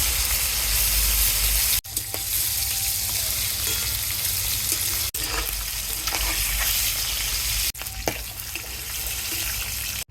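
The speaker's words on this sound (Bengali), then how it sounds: "মাছ ভেজে নামিয়ে ফেললাম।" Large koi fish frying on a clay stove gives a loud, steady, dense sizzle that cuts out briefly three times, with no voices.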